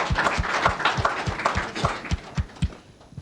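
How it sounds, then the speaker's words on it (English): Audience applause for His Excellency at a formal gathering, heard as steady rhythmic clapping with regular low thumps, moderately loud and continuous for a few seconds. "Make we clap for His Excellency."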